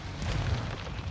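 A flashbang grenade goes off in Modern Warfare 2 on a Shoot House map, a brief dull, muffled boom with a low rumbling body that fills about a second.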